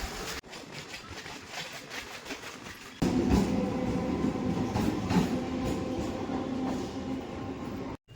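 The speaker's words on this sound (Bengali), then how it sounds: "আমাদের ট্রেন ঢুকছে বনগা মাঝেরহাট লোকাল তিন নম্বর প্ল্যাটফর্মে" A crowded rush-hour local train rumbles into a station platform, growing suddenly louder partway through with a heavy rolling clatter that fills the space, then cuts off abruptly.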